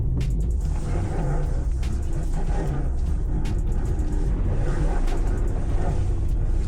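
BMW E46 converted for off-road use driving through mud, a steady loud low engine rumble with sharp thumps and splashes from the rough ground.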